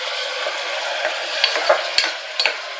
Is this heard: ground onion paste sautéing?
yes